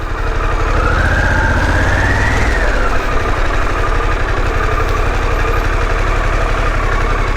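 A Harley-Davidson Pan America motorcycle engine idling, a loud, steady low throb close by, with a faint rising whine early on and no talk.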